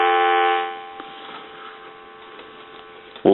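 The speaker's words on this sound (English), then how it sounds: "Give you some dial tone." A steady telephone dial tone from a converted Monarch wooden wall crank telephone sounds loud at first, then drops to a quieter level and continues evenly, with a short click near the end.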